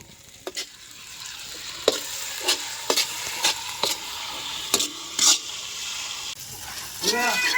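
A one-kilogram batch of chicken fry is stirred in a pan over a wood-fired stove, with rhythmic spatula scrapes and clanks over a steady sizzle and a brief voice near the end.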